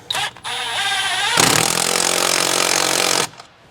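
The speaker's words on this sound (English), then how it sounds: "I'm gonna tighten this one now." A cordless power tool tightens a hose clamp on the intake piping of a 6.7 Ford Super Duty, starting with a short burst, then a loud, close, continuous whirring run of about two seconds before stopping.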